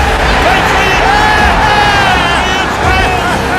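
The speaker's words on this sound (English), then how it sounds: "The crowd will tell you whether he makes it or not." Loud, dense stadium crowd roaring and cheering after a Patriots overtime field goal, sustained whooping and yelling with rising shouts, heard from within the crowd.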